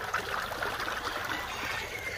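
Irrigation water trickling steadily along a channel between fodder-field basins, a constant gentle babbling stream heard close up and on its own.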